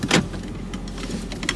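Inside a suburban car, a steady low engine and road rumble continues throughout, with a brief rustle or click near the start and faint light rattles later.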